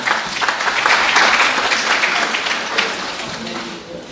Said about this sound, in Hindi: एक दफ़ा रेडिंग के लोगों के लिए भी भरपूर तालियाँ होनी चाहिए